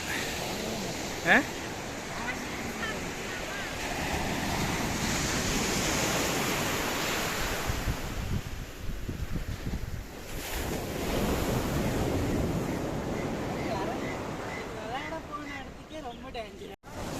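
Sea waves and steady wind on Kappad beach in Calicut, Kerala, with surf washing in continuously and wind buffeting the microphone throughout, a brief sharp knock near the start.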